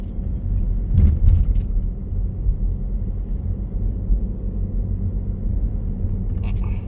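A car driving along a town road past a school zone, heard from inside as a steady low engine and road rumble that stays even throughout, with a few faint clicks early on.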